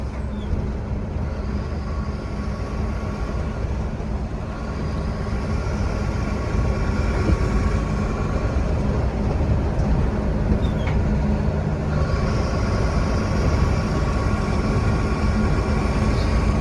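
A Benz truck drives steadily with a loud, continuous low engine drone and road rumble, the engine note rising slightly partway through; no voices.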